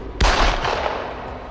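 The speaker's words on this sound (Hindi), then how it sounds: "संजय बोल ही रहा था कि तभी एक और गोली चली।" A single sharp gunshot sound effect from a Hindi audio drama cracks loudly and close, then a long rumbling echo decays, with no talking.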